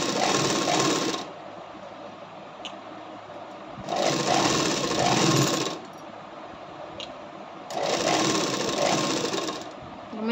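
Sewing machine stitching the sleeve seam of a katori blouse, running in three loud bursts of steady whirring with quiet pauses between them, close by.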